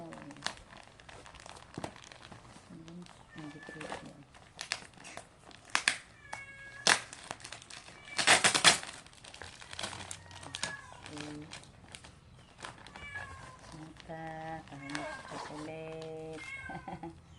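A chocolate candy package is opened with scissors, giving sharp bursts of crinkling and tearing plastic wrapper up close, mixed with repeated cat meows and voices talking throughout.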